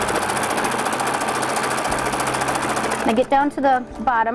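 A sewing machine stitches a towel bag in a steady, rapid buzz for about three seconds, then stops as someone speaks over the quieter room.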